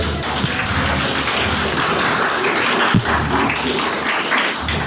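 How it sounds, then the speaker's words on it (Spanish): A church congregation applauds during a Pentecostal service, a continuous wash of clapping from many hands, with one sharp louder clap near the middle. "Denle un aplauso al Señor"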